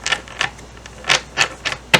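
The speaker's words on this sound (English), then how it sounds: "You hear me shuffling." Tarot cards are shuffled close to the microphone, giving a series of sharp, irregular riffling snaps and light papery clicks, about seven bursts in two seconds with no talking.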